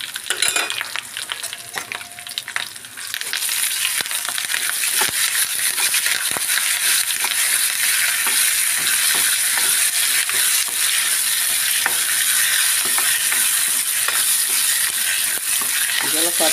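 Tempering seeds crackle and sizzle loudly in hot oil while being stirred, a dense, steady frying hiss broken by scraping strokes and small pops, close by with no voices.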